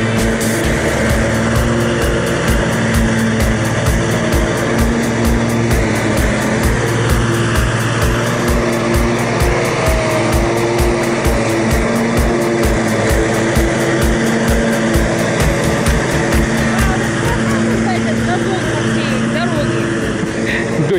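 Lawn mower engine runs steadily throughout, a constant droning motor cutting grass, fairly loud and continuous with no pauses.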